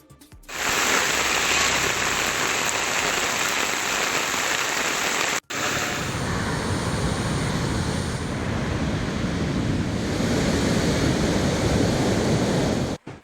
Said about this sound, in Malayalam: ഇടവിട്ടുള്ള ശക്തമായ മഴയാണ്